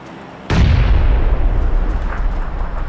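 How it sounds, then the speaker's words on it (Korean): A grenade detonates in a video game with a sudden, loud boom that rolls off into a long, rumbling decay, with no voices over it. "수류탄 터진 거"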